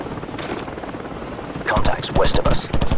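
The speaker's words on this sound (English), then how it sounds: "Heads up! Choppers inbound!" Helicopters fly in over a Call of Duty 4 battlefield, a loud rotor thump and roar swelling in after a quieter stretch, mixed with bursts of game combat noise and a voice calling out.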